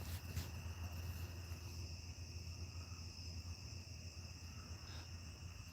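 Steady high-pitched cricket chirping fills a quiet night, continuous and even, with no voices.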